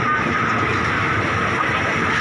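Ordinary train 202 standing at Thap Krit station on the Phitsanulok–Bangkok line, a steady, loud broadband rumble and hiss from the train and carriages throughout, with no talk.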